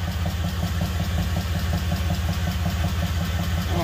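A car engine idles steadily with a low, even rumble and a faint rhythmic pulse, running alone at close range without any talk.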